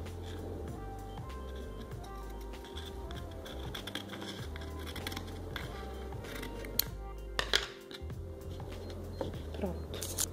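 Paper being trimmed with scissors while assembling a handmade wedding invitation, soft close snips and paper rustling over a steady low background hum, with a few sharper handling knocks near the end.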